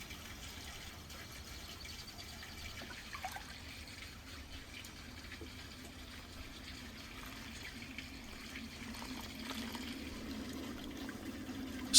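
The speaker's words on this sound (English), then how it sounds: "The water goes in gradually as I stir the mixture." Spring water trickles steadily and faintly into a bowl of wheat flour, salt and yeast as the mixture is stirred, a soft continuous pour lasting several seconds with no talking.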